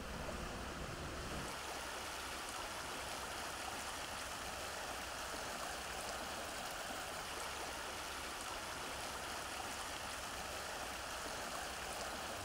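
The Yvette river at Saint-Rémy-lès-Chevreuse running through its newly restored bed, a steady broadband rush of flowing water heard up close and loud throughout, with no voices.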